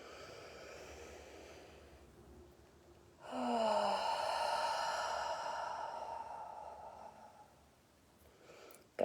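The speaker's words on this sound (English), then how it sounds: "Take a nice deep breath in" One long, slow, deep breath drawn in and released, close and soft, rising suddenly and then fading gradually.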